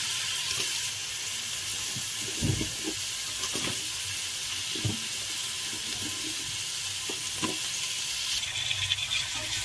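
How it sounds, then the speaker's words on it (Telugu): Chopped carrot and other vegetable pieces fry in oil in a pan for a vegetable pulao, a steady sizzle broken by several louder stirring scrapes and clatters, with no talking. "క్యారెట్, ఈ వెజిటేబుల్ ముక్కలన్నింటినీ మనం ఇందులో యాడ్ చేసుకుని ఫ్రై చేసుకోవాలి"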